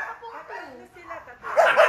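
Husky puppies yip and whimper in short high bursts that rise louder toward the end, with people talking throughout.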